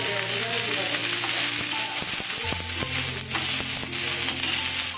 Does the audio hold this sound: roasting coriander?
yes